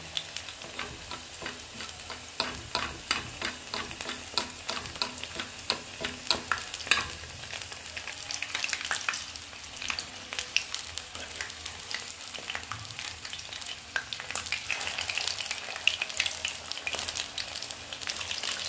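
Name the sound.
fish frying in a pan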